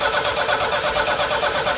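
A car engine cranking and trying to catch while the throttle is worked, a steady churning drone throughout, close and alone with no talk.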